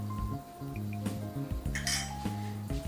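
A spoon clinks against a pot of boiling coconut-based Goan fish curry gravy as salt goes in: several light metallic taps and chinks, close up and fairly quiet, with no talking.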